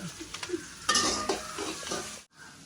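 Onions sautéing in a pan, a close sizzle broken by clinks and scrapes of a utensil stirring, then a sudden brief drop to near silence near the end.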